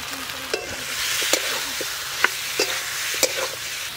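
Fried potatoes hiss and sizzle in ground spice paste in a pan, cooked with snakehead fish and mango, with a steady loud frying noise and a few scattered clicks from stirring.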